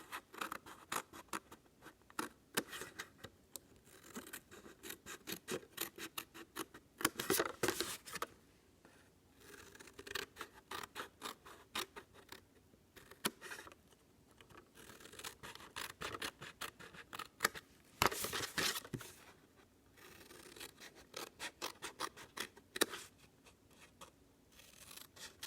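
Scissors cut paper for a cube box, producing close, repeated crisp snips and scraping strokes in uneven bursts, with brief pauses between cuts.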